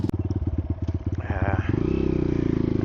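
A Honda XR150L motorcycle engine idles with a steady thumping pulse up close on a rough trail, then revs slightly into a faster, smoother drone.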